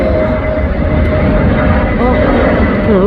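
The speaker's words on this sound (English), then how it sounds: "It's a bloody airplane." An airplane flies over Pendik beach in Istanbul, a steady low engine rumble with a faint whine filling the few seconds, with people talking over it.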